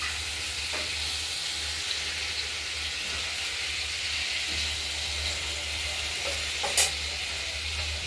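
Tomatoes and fried potato pieces cook together in an oiled pan, giving a steady close sizzle and hiss with occasional stirring scrapes and a sharp clink near the end, with a low hum underneath and no talk.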